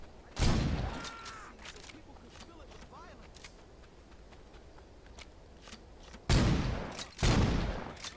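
Gunfire in the video game Saints Row 2: a loud burst near the start and two more heavy bursts near the end, with quieter crackling action between them.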